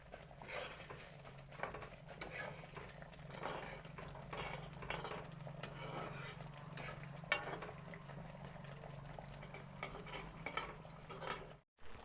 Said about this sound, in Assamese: আকৌ এবাৰ লৰাই দিম।